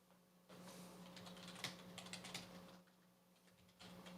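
Someone types on a computer keyboard, a quiet run of rapid clicking keystrokes in uneven bursts over a steady low hum, with a short pause before more taps.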